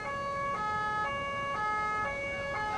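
An ambulance siren wails in a steady repeating two-tone cycle, loud and close, as it pushes through a traffic jam caused by a truck drivers' protest on a ring road in Karanganyar, Central Java.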